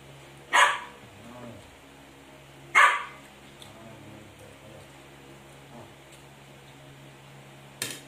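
A dog gives two loud, sharp barks a couple of seconds apart, then a faint third yelp near the end, against a quiet background with a low hum and no speech.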